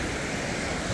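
The strong current of the Psezuapse river in Lazarevskoye, Sochi, a brief close roar of rushing water mixed with wind buffeting the microphone.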